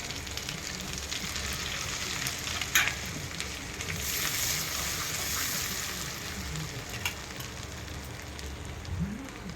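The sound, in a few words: frying ground spices and ginger paste in pan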